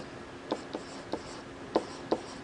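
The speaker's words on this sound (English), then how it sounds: "Let me write it down here." Marker or chalk strokes on a board during a university lecture on random variables, five short separate taps and scrapes spaced irregularly against a quiet room.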